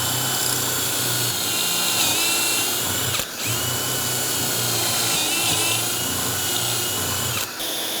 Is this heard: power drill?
yes